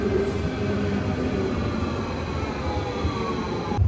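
A Stuttgart U7 metro tram rumbles along its tracks with a steady low roar, faint tonal whine and occasional rattles, heard from inside the moving car.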